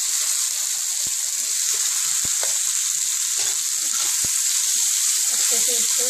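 Okra added to hot oil with cumin seeds and asafoetida, a steady bright sizzle throughout with scattered pops and crackles, close and continuous.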